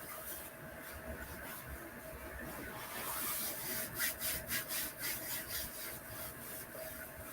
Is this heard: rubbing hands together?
yes